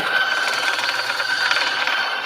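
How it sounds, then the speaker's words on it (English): An R80 compact electric grinder works through coffee beans with a steady, high whirring buzz and gritty crunching texture, close and continuous. "Here on the R80 compact grinder."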